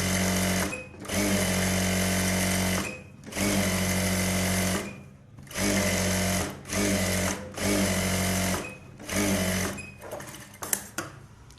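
A close, loud sewing machine stitching a blouse lining a quarter inch in from the edge, whirring in repeated bursts of one to two seconds with short gaps, then ending in a few quick stops and starts.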